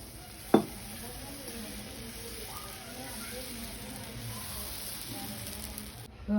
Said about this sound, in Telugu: దోశ వేస్తున్నాను ఇప్పుడు